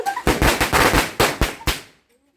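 Diwali firecrackers go off in a rapid, irregular string of about eight sharp, loud bangs close by, then stop abruptly and leave near silence.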